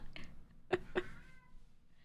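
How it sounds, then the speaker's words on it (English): A male cat meows twice in quick succession, two short, fairly clear calls close by, with a faint murmur before and a soft tail of room noise after. "I think he's trying to call my other cat."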